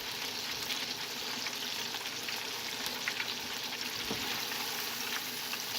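Cornflake-crumbed turkey fingers sizzle steadily in hot frying oil, a close, even crackle with a few brief pops and no talking.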